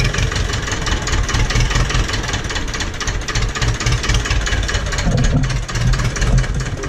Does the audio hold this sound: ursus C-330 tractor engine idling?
yes